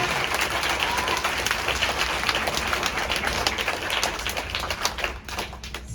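A large gathering of schoolchildren and teachers at a basic school assembly claps hands together, dense sustained clapping that fills the room and tapers slightly near the end.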